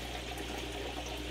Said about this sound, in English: the water pump is doing a fantastic job of moving water